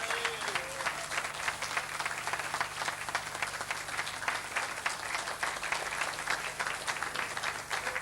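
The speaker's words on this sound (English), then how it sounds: "Please give a round of applause to a great champion, a great boxing man, Sean Harkin from Castlebar." Audience applause at a 1988 amateur boxing night in Mayo, Ireland: a dense, steady roar of many hands clapping continuously and evenly for the full length, with no breaks, swells or fading.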